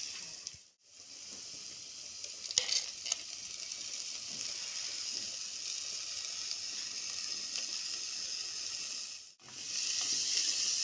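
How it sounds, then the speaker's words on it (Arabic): Minced garlic with coriander and chard sizzling in hot oil for a taro dish, a steady close hiss that drops out briefly twice, with no talking. "دلوقتي عندي انا مسخنه الزيت وهبدا بقى انزل بتوم مفروم وعليه كزبره وسلق انا مخزناهم"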